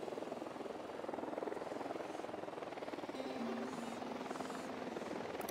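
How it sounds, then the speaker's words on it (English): Drone flying in the video game Ghost Recon Wildlands, a steady buzzing engine hum holding throughout at constant loudness, with faint game ambience and brief tonal effects underneath. "Drone is up."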